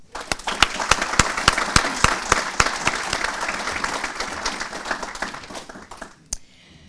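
Applause from an audience honoring city workers at a Mount Clemens State of the City address, a dense crowd clapping loud and steady for about six seconds, with sharp individual claps standing out, then dying away.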